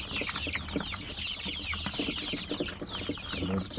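Chickens cluck and chatter continuously in a busy flock crowding a feeder, with overlapping calls and scratching sounds close by.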